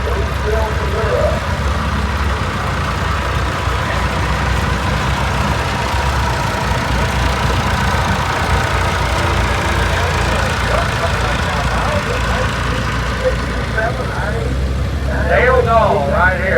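A 1932 Allis T40 tractor engine runs steadily in a tractor parade at an Oliver show in Boonville, Missouri, a constant low rumble under loud announcer talk throughout.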